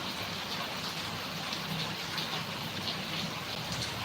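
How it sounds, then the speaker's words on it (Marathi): Heavy rain pours down steadily, a dense, even hiss of countless drops drumming on surfaces with no break and no voices. "रात्रीपासून मुसळधार पाऊस चालू आहे"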